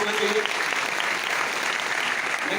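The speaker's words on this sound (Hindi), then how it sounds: "बहनों के लिए एक बार जोरदार ताली होना चाहिए।" An audience claps for the sisters at a crowded indoor gathering, a dense, even wash of applause held steady throughout at moderate loudness.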